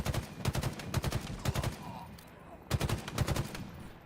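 Rapid bursts of automatic gunfire from a video game shooter, several quick volleys separated by short pauses, loud and close with no talking over them.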